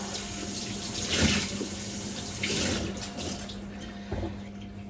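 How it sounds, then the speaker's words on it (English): Warm tap water runs steadily into a sink while a sponge is rinsed, a continuous close hiss and splash with small shifts in flow and no talk. "rinse out my sponge with some nice warm water."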